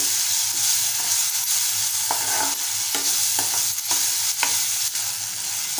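Tomatoes sautéing in a hot pan for tomato semolina upma, a steady close sizzle broken by repeated scraping strokes of a spoon stirring through them, with no voices.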